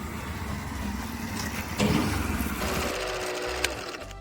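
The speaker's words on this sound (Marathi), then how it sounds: "शिवाची गाडी चालू होत नाहीये पुन्हा एकदा" A motorbike on a coastal ride that won't start, its engine sputtering and chattering unevenly at close range, catching briefly and then dropping off, with no talking.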